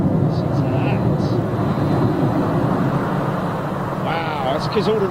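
Turkish Airlines jet airliner on a far runway, a steady, broad roar heard from a distance throughout, with people talking over it nearby.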